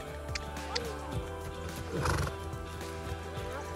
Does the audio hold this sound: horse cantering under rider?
yes